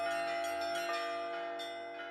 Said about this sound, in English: Visitors also get to try bell ringing for themselves.